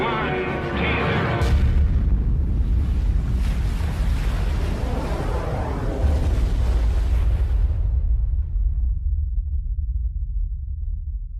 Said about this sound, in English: It explodes with a force of 10 million tons of TNT